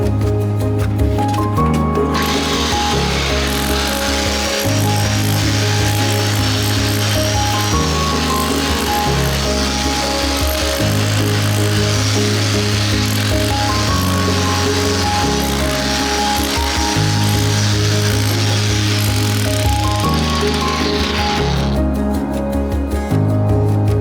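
A loud power tool grinds render off a cottage wall, a continuous harsh, rattling drone running nearly throughout with rhythmic shifts in pitch as the tool works across the surface, close by.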